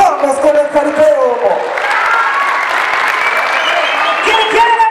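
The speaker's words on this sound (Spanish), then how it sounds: "¡Que venga el aplauso!" A large crowd at a jaripeo rodeo event applauds steadily and loudly, with a dense wash of clapping and some cheering mixed in.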